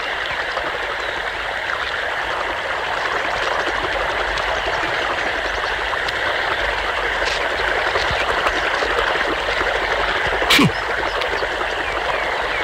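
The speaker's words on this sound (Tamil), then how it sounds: "தோட்டத்துல யாருமே இல்லைங்கிற வாய்க்கால இவ்வளவு தண்ணி போகுது." Water runs steadily through an irrigation channel on a farm plot, a continuous close rushing and gurgling that holds even for the whole stretch, with one brief sharp sound near the end.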